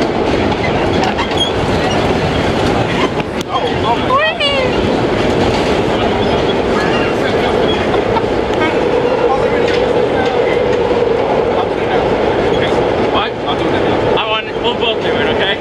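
A vintage R1 subway car on a holiday nostalgia run rumbles loudly along the tracks at moderate speed, with continuous roar and occasional clattering wheel beats, and a brief voice is heard.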